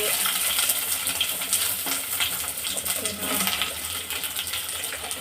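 Onion fries in oil with garlic and dried chillies in a frying pan, giving a continuous dense sizzle with scattered crackles and pops throughout, close and fairly loud.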